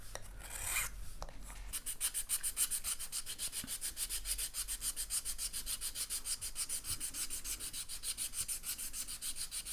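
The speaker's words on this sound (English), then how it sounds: "we put it in the little holder, a nice big file, and there we go" A large file rasps across a wooden violin bridge held in a small holder, with steady, even back-and-forth strokes at a quick rhythm, close and clear.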